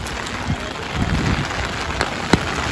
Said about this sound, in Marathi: पाऊस त्यात जोरात आलेला आहे.